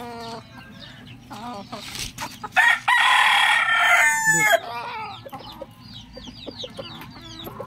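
Hens cluck and chatter close by while a rooster lets out a loud crow partway through, the flock continuing to cluck afterward.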